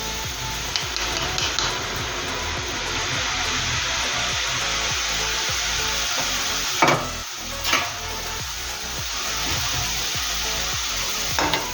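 Boondi batter dropping into boiling oil for laddu produces a continuous loud, crackling sizzle with a low rumble beneath and a couple of louder bursts near the middle, close and without speech.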